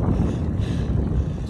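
Strong wind blowing outdoors on a bright day, a loud continuous rumbling buffet against the microphone with no break.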